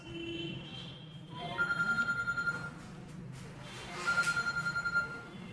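A mobile phone rings in a classroom during a physics lecture, two bursts of repeated electronic trilling tones about a second long each, fairly close and loud over low room noise.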